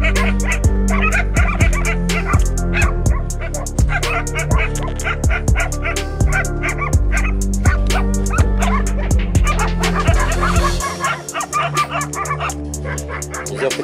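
Local dogs barking at a bear that wandered into a village in search of food: a pack of barks and yips, loud and near, repeating in quick bursts over a steady tonal background.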